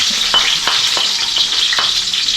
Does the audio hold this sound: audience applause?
no